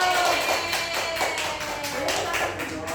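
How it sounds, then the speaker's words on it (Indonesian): Pupils in a classroom clap their hands in a quick rhythmic run of taps that repeats steadily, close and fairly loud, with voices mixed in over it. "Oke, tepuk tangan lagi dong."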